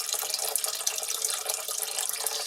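Water pours steadily into a container as it is measured out for a batch of soap, a continuous close splashing stream with no voices.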